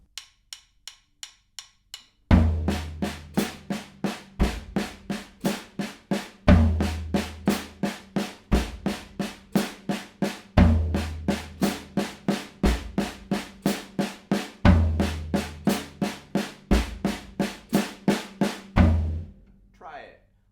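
A drum set warmup exercise orchestrated on floor and rack toms: evenly spaced, punchy tom strokes repeat in steady groups, with deep booming accents marking each cycle, played alone after a few soft opening taps.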